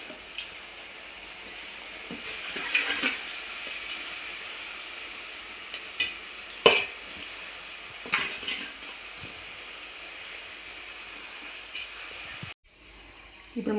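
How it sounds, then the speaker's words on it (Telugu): Fish pieces frying in oil for a fish curry: a steady low sizzle with occasional louder clinks and scrapes of stirring, briefly cutting out near the end. "ఇప్పుడు మనం ముందుగా కలిపి పెట్టుకున్న చేప ముక్కల్ని వేసేద్దామండి."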